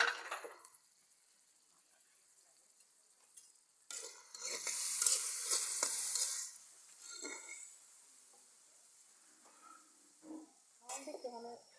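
Shrimp tipped into a hot frying pan for a bottle gourd and shrimp dish, a quiet start with a few clicks, then a burst of loud sizzling and scraping strokes that fades, followed by softer stirring clinks, with a voice speaking at times.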